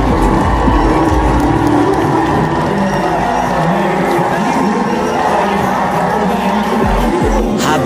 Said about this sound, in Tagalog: Pagpasok nito sa arena ay naghihiyawan ng mga tao.